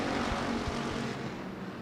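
Race cars at Devil's Bowl Speedway roar under hard throttle as the green flag drops, a dense, steady engine drone filling the track.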